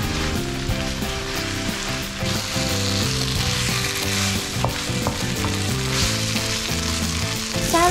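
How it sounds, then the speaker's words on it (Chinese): Tomatoes and potatoes stir-fry in a pan for a Japanese tomato cream stew, a continuous close sizzle with occasional stirring clinks and scrapes throughout, no talk. "翻炒均匀，持续炒到番茄有点糊糊的感觉。"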